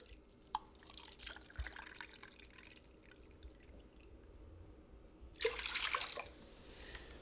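Two cups of water run and trickle faintly into a bowl for bread dough, with a few soft drips, then a louder rush of pouring near the end.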